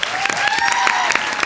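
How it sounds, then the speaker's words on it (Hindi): A comedy show audience gives a brief, steady burst of clapping lasting about a second and a half, with a faint musical tone running underneath. "उसके लिए तालियां हो जाए"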